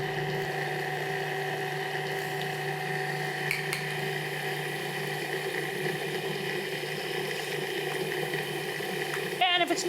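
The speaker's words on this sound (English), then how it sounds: "With the motor running, we're going to add ice water." A food processor motor whirs steadily while ice water is added to pie dough of flour and pea-sized butter pieces, with a brief rattling clatter near the end.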